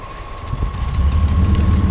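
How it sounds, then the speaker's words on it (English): A truck engine in the MudRunner video game turns over and settles into a steady, rumbling idle that grows louder and holds a constant low drone, with a faint tone running underneath. "Start engine."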